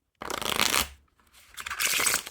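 Two quick riffle shuffles of 3-D Cat playing cards, each a dense fluttering burst of scratchy card edges, close up with a brief pause between.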